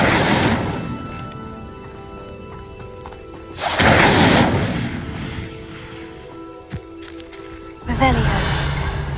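In the Hogwarts Legacy video game, the Incendio fire spell is cast as a loud, whooshing burst that flares up three times. Steady game music and ambience continue underneath throughout.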